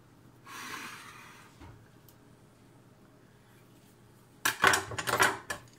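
A big old combat knife is hit hard into a can to open it, producing a few sharp metallic clanks and scrapes near the end, after a soft rustle and quiet breathing.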